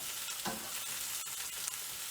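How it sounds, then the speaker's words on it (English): Onions and scallions caramelizing in a pan for Jamaican-style jack mackerel in tomato sauce, a steady soft sizzle with brief stirring scrapes, close and even throughout, no voices. "my onions and scallions are caramelizing a little"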